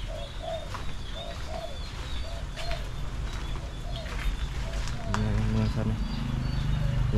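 Zebra doves (merbok) give repeated soft rhythmic coos in short phrases, close by amid background noise, with a louder run of cooing near the end.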